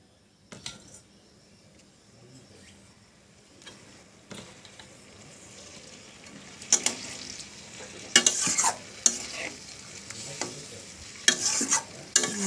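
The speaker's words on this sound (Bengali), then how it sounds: "দেখো এবার মাছগুলো দিয়ে দিচ্ছি এক এক করে" Fish pieces go one by one into a frying pan with water, giving a run of stirring and sizzling sounds with sharp clinks and scrapes that grow louder and busier toward the end.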